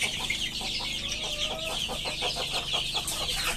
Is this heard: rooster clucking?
yes